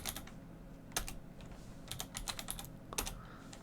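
Quick, uneven bursts of typing on a computer keyboard, crisp key clicks in short clusters, close by and quiet, with no voices.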